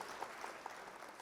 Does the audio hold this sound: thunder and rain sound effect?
no